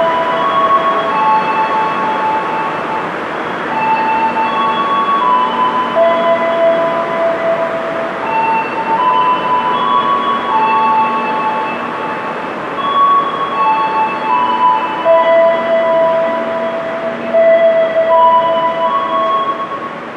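Steady rumble of the Wijaya Kusuma passenger train at Yogyakarta station, with long tonal squeals and hums layered throughout, continuous and fairly loud with no talking.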